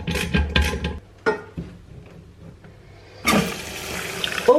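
Water bursting through bathroom plumbing under repair, starting with a few sharp knocks and clunks, then a sudden loud rushing flow near the end.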